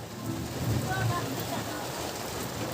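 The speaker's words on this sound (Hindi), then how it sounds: "देखो रोड पे बारिश, कोई नहीं है बाहर निकला हुआ, और बारिश होना शुरू हो गया।" Rain falls steadily on a road, an even hiss of droplets heard from nearby, continuous and moderately loud for the whole short stretch, with no voices audible.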